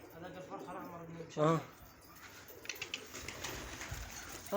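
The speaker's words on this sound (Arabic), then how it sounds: "هذا صغار كلهم لسه عم بيصوصوا ترى" Soft, high peeping calls from young pigeons recur across the clip, with cooing and someone speaking nearby at times.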